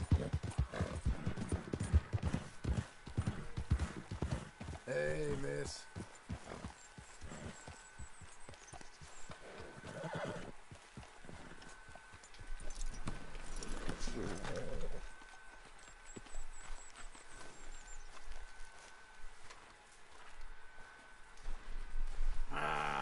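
Hooves clip-clop on hard ground with an occasional horse whinny, while a person talks intermittently over the steady plodding rhythm, in the video game Red Dead Redemption 2.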